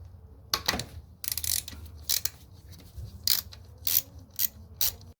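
Ratchet wrench clicking in several quick bursts while backing out the power steering pump bolts on a 2010 Honda Accord engine, close and fairly crisp with short pauses between strokes and a low background hum.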